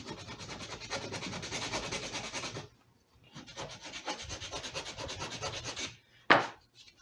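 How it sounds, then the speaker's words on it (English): Sandpaper is rubbed back and forth over a wooden brace on an acoustic guitar top in two long scratchy bursts separated by a short pause, close and steady, ending with a sharp tap. "I'm just going to take the sandpaper."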